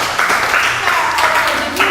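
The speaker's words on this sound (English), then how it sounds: "Give her a big clap." Brief applause for a student during a chess lesson on key squares, a short burst of clapping mixed with a speaking voice over it.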